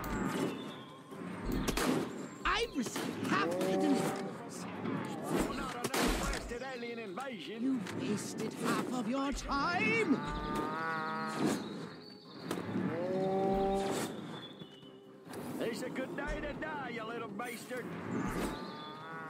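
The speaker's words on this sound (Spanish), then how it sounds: "¿Dónde hay más vacas?" Cows in the Destroy All Humans! video game moo repeatedly in drawn-out, wavering calls, mixed with loud game effects and sharp bangs while someone talks excitedly throughout.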